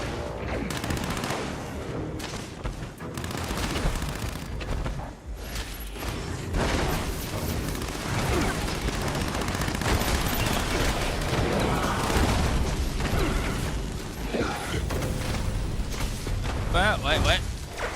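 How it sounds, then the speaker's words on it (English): Explosive weapon fire from the Cremator, a seasonal weapon in Fallout 76, during an alien invasion event: a dense, continuous barrage of booms and blasts lasting throughout, loud and busy, with a voice talking over it. "I'm using the new seasonal weapon called the Cremator."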